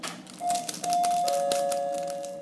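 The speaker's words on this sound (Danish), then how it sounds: "Undskyld, den der klokke der." A bell rings with a sustained clear tone over light kitchen clatter, struck about twice and left ringing out.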